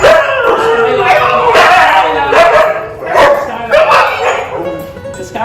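Several Siberian husky pet dogs bark, yip and whine loudly and repeatedly in welcome of their owner, a close, busy chorus with some talking mixed in.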